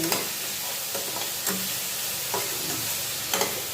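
Tomatoes cook down in oil in a pan for Tirupati-style chutney, giving a continuous close sizzle broken by a few sharp scrapes and clicks as the spoon stirs them.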